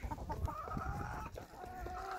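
A rooster and hens cluck and murmur in a farmyard, soft and somewhat distant, with a low rumble of background noise underneath.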